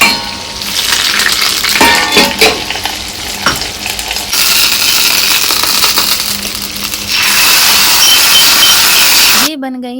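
Steady crackling sizzle of cumin, red chilli and curry leaves hitting hot oil, close and continuous, with occasional clinks of a utensil and a brief shift near the end.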